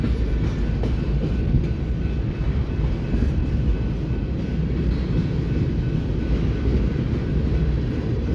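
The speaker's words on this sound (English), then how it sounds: "this train's heading north on the BNSF Sioux City sub here in Fremont." A BNSF freight train heads north on the Sioux City subdivision in Fremont, a steady, loud low rumble of rolling cars sustained throughout with no voices.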